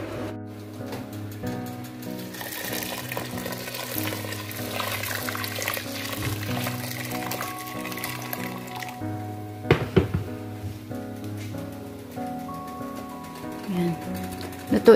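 Running water splashes and drips steadily while boiled meat is rinsed for Mandi laham, continuing under background music for the whole stretch.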